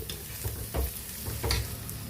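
Shallots and curry leaves frying in oil in a pan for a Kerala onion theeyal, a steady close sizzle with a few soft scraping stirs.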